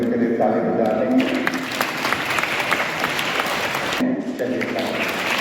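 Applause during a funeral mass fills most of the clip as a steady, dense wash of clapping from a gathered congregation, with a speaking voice heard before and after it.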